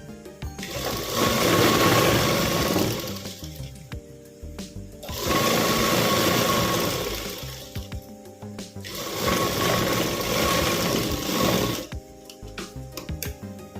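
A sewing machine stitching a salwar belt runs in three loud, steady bursts of rapid whirring and clatter, each lasting a few seconds, separated by short quiet pauses with small handling clicks.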